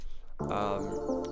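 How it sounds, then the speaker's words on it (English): Bright chirping bird calls from a sample rise over a sustained, warm synth bed in a drum and bass track after a short quiet start. "Some bird sounds, obviously."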